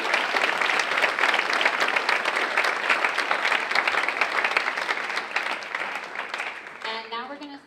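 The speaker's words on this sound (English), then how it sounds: "A big round of applause for our scholarship donors again," Sustained applause from the crowd at a high school senior awards night, dense and steady, fading toward the end as a voice begins speaking over it.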